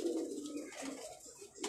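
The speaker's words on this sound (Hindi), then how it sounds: "मशहूर कबूतर हैं ये यहाँ के।" A few tufted pigeons of a well-known Karachi breed give soft, low coos on a rooftop, the faint throaty burble fading and returning over a quiet background.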